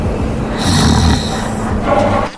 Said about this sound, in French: Même d'ici, je peux l'entendre ronfler.